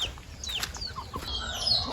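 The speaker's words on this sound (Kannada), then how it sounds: "ಮನೆಯೊಳಗಡೆ ಒಂದಷ್ಟು ಕೋಳಿಗಳಿದೆ ಅದನ್ನು ತೋರಿಸ್ಕೊಡ್ತೀನಿ" Hens kept indoors let out a brief burst of clucking, quiet and close, over a faint background hiss.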